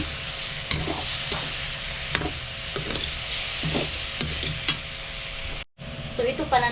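Lean chicken meat fries in a dry pan with no oil, giving a steady close sizzle broken by repeated scraping stirs, with a brief dropout near the end before the sizzling resumes.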